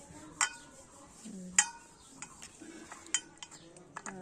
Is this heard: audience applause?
no